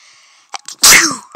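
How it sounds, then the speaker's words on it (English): A single person sneezes close to a headset microphone, a short intake of breath followed by one loud explosive burst and a brief trailing sound. "Oh, sorry, I had to sneeze."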